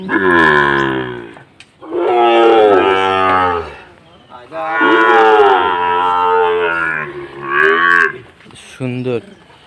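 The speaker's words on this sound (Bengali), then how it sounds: "গরুগুলো সবগুলাই সাইওয়াল" Several long, loud Sahiwal cattle moos one after another, deep and drawn out, close by with brief pauses between calls.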